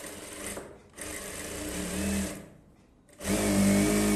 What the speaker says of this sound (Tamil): 2 மடித்து தையல் போட்டுக்கோங்க.